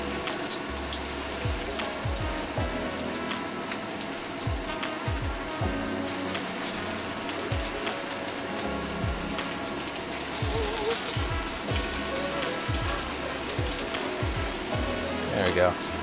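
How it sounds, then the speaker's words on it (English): Food for a Sichuan stir fry searing in a hot pan, a steady soft sizzle and crackle running throughout with scattered knocks and clatters, fairly quiet and close, with a person speaking at times. "we're going to flip everything after about 3 minutes and get a solid sear going on the second side"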